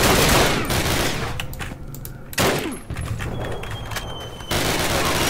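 Video game gunfire, dense volleys of rapid shots and cracks in several bursts separated by brief lulls, loud and close amid battlefield noise.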